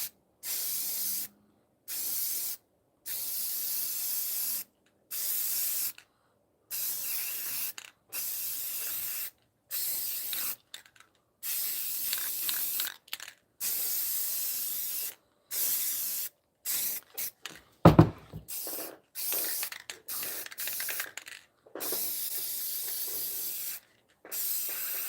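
Clear coat sprayed from an aerosol can in a long series of short bursts with brief pauses, steady hissing close by, with no talking.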